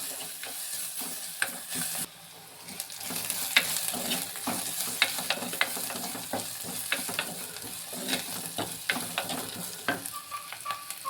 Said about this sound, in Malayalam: ഉണക്കമുളക്, ചതച്ച് വെച്ചിരിക്കുന്ന എല്ലാം കൂടെ കറിവേപ്പിലയും എല്ലാം ഇട്ട് മൂപ്പിക്കുക.